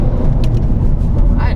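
Citroën C3 HDi 1.6 16V diesel with 230,000 km and 92 horsepower accelerating, a steady loud engine drone heard from inside the car while people talk over it.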